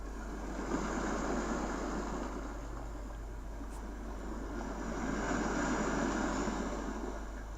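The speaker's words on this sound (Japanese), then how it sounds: "こういう波の音が入っていますので、" A built-in ocean wave sound from a BOSS DR-01S rhythm machine plays as a steady, broadband wash of surf that swells gently and recedes, continuous and fairly soft with no voices.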